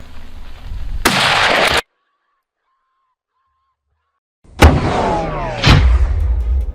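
Gunshots fired at a wild boar on a hunting trip: two sharp, loud cracks close together with a rough outdoor rumble, following an earlier burst of noise and a stretch of silence.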